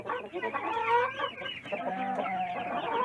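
Guinea fowl clucking and squawking close by in a farmyard, a few harsh, throaty bursts running back to back without talk.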